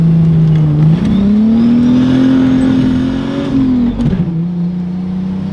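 Wide-body car with a modified exhaust at a Texas car festival, its engine droning loudly up close and rising in pitch as it revs, then easing back, with no voices over it.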